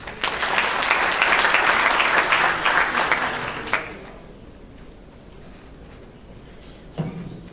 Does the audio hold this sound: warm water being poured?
no